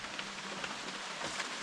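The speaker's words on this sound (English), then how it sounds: "The rain's picking up" Rain falls steadily on a hiking trail along the Appalachian Trail, a dense even hiss of drops with scattered louder patters close by, continuous and without voices.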